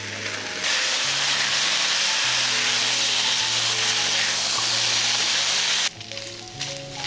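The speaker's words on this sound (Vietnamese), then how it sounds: "Mình cho thịt ba rọi vào chảo và đảo thịt trên lửa vừa." Pork belly sizzles loudly in a pan over medium heat, a steady close hiss of frying fat for several seconds under faint background music, then easing suddenly near the end.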